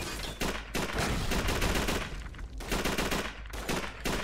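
Dense, continuous automatic gunfire from Call of Duty 3 (2006) on PS3, loud overlapping bursts with only brief gaps between volleys.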